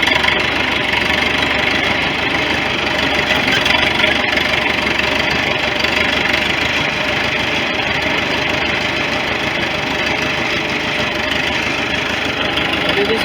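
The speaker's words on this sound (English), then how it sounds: "See how it gets a little more gas, a little more go?" A 1973 International loader tractor engine runs loud and close with a steady, rough, knocking idle that rises slightly as it is given more gas, continuous throughout.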